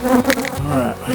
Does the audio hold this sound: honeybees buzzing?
yes